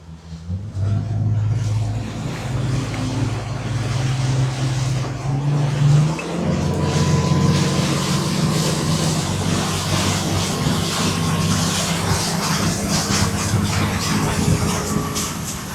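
A boat engine runs steadily on the way out to a center buoy channel, a loud continuous low drone with a brief shift in pitch partway through, wind noise over it throughout.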